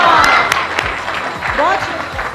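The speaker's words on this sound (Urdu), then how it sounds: "ایک دفعہ بھرپور تالیاں." An audience applauds during an Independence Day cake cutting at the Benazir Income Support Programme headquarters in Pakistan, with loud sustained clapping mixed with crowd voices and a few sharp claps standing out.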